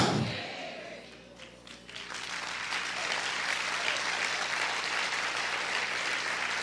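A church congregation breaks into loud, sustained applause that builds within a couple of seconds and keeps going steadily, filling a big room.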